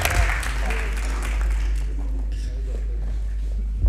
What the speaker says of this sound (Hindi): लियो अब्दुल्ला के लिए भी क्लैपिंग होनी चाहिए जी